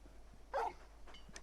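A single short bark from Torgal, the large dog companion in the video game Final Fantasy XVI, followed by a couple of faint softer yips over a low steady hum.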